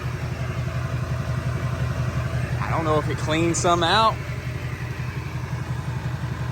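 A diesel truck engine idles with a low, steady, rumbling drone while someone talks over it close by.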